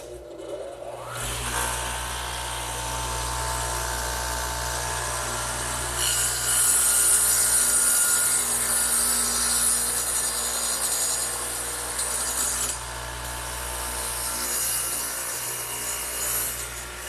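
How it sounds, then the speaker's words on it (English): A radial arm saw fitted with a dado head cuts a notch across a vertical wooden trestle table piece, a steady loud whine and grinding rasp as the blade runs through the stock, rising mid-cut. "I'm going to do that to this piece right here over on the radial arm saw, which again has the dado head in it"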